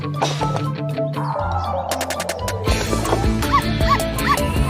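A cartoon puppy yips and barks repeatedly, high and lively, with a few whimpering notes, over music.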